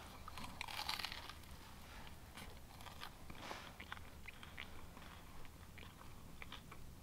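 A barbecue potato chip-infused grilled cheese sandwich is bitten into, with a crisp crunch near the start followed by quieter, close-up chewing and small crackles.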